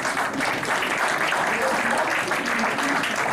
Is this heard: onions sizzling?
no